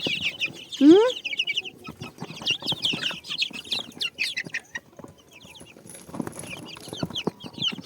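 Chickens and roosters cluck and squawk close by in a coop, with one loud rising squawk early on and busy overlapping clucking throughout, plus a few wing flaps.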